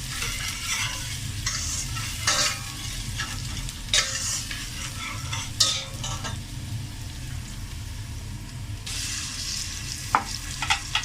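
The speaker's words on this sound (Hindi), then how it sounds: "अदरक को ज़रा 1 मिनट फ्राई किया, साथ ही मैं इसमें टमाटर शामिल करूँगी" Ginger and tomato fry in a pan for masoor dal, giving a steady close sizzle throughout with repeated sharp spatula scrapes and clinks from stirring.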